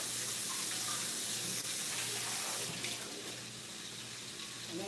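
Tap water runs steadily into a kitchen sink while freshly cut onions are rinsed under it, a continuous close splashing stream that eases slightly near the end.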